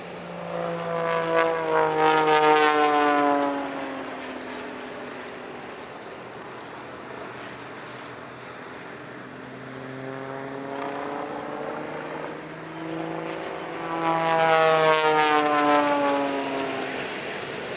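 An Edge aerobatic plane and a Bo 105 helicopter dive into parallel loops at an airshow. A propeller engine drone rises and falls with sweeping pitch changes, loud passes near the start and end with a quieter stretch between.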